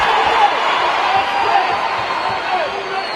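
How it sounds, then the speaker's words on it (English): Crowd at a live boxing fight gives continuous rising oohs and ahs, a dense roar of many voices that swells and holds steady throughout. "Hear the oohs and ahs from the crowd."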